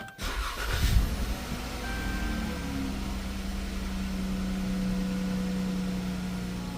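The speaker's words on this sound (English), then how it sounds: "let's start it up." A 2012-or-later Chrysler 300 with multiple engine fault codes cranks briefly and catches, then settles into a steady close idle hum that runs to the end.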